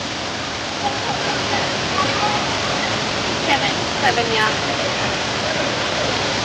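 Abbey Falls, a waterfall roaring as a loud, constant broadband rush heard close up, with brief voices talking over it.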